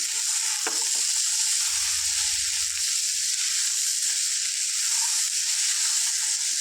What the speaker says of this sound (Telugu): ఆలుగడ్డ ఇందులో వేసుకున్నాం ఫ్రెండ్స్ జస్ట్ దీన్ని ఫ్రై చేసుకుందాం